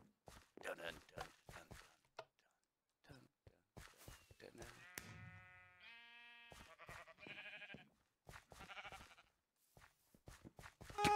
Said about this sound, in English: Oh, we got a sheep!